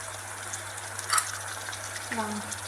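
Curry leaves, coriander and ginger frying in plenty of oil give a steady low sizzle throughout, with a brief metallic clink partway through and a faint hum beneath.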